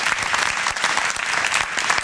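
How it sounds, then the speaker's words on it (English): Canned applause sound effect of dense, even clapping from a crowd, loud and continuous for a couple of seconds with no voices over it. "Kendall, do you enjoy the Sheila Oliver fake applause?"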